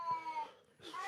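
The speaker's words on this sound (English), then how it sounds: "Oh my God, cat!" A cat gives two short meows, a drawn-out cry followed by a brief pause and a second call, fairly near and moderately loud, with a voice faintly present.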